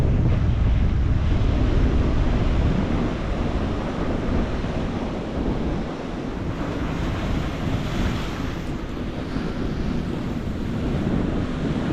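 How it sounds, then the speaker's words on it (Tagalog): Strong sea waves crash and wash continuously at a bay fishing spot, a loud, near, unbroken roar of surf mixed with wind buffeting the microphone and no one speaking. "Malakas ang alon"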